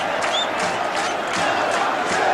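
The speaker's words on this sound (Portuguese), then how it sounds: "A torcida canta o hino em Juiz de Fora" Flamengo supporters sing the club anthem together in a stadium in Juiz de Fora during a 2001 Brazilian league match against Palmeiras, a loud, continuous crowd chant filling the space.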